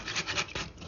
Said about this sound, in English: I'm going to mix this up good.